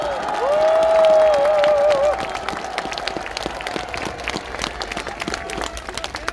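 A crowd applauds at an outdoor political rally in Yeouido, Seoul, with a loud burst of clapping and a high whistle-like tone at first, then thinning to scattered, uneven claps.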